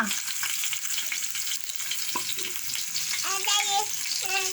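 Food sizzles and crackles steadily in a hot pan as a child cooks at home, with stirring scrapes and faint voices in the background.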